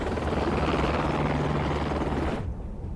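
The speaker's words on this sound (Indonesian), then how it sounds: "Segera helikopter lepas landas." A helicopter taking off in the 2007 film Resident Evil: Extinction, a loud, close, steady rotor roar that holds for over two seconds and then cuts off abruptly.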